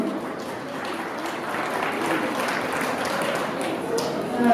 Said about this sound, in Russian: Бурными аплодисментами, пожалуйста, бурными.